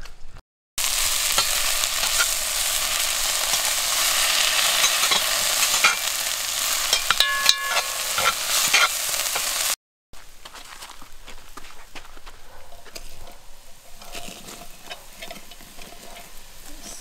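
Chili mac sizzling and being stirred in a pan at a hot spring campground, a steady close frying hiss with scraping stir strokes, then cut to quieter outdoor ambience.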